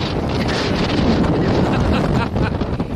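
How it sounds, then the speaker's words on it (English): Strong Hurricane Gordon wind at Pensacola roaring into the microphone, a loud continuous buffeting rumble that fills the whole stretch. "I don't know if you can hear me because that wind is blowing"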